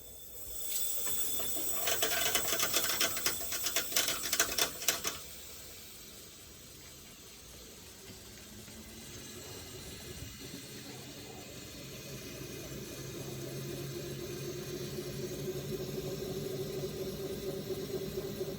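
A homemade Tesla turbine spinning up on low-temperature steam from a boiler, with two gears and six bearings, gives a steady hiss and faint whir, louder in the first five seconds with rattly bursts, then a quieter continuous spin.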